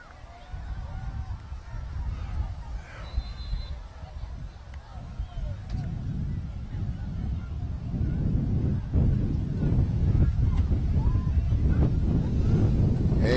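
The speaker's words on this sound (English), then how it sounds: "I'm talking about a gust, at least 30-mile-an-hour wind gusts." Strong wind gusts of around 30 miles an hour buffet the microphone outdoors, a heavy low rumble that builds and grows louder, with a person talking over it.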